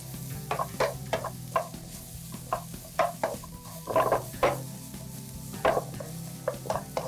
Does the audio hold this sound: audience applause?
no